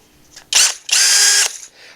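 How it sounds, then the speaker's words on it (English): A brand-new Worx 20-volt 1/2-inch brushless cordless drill spins up close by in two quick bursts, a brief blip and then a longer whir of about half a second, with no voices. "This is my brand new Works 20-volt 1/2-inch brushless"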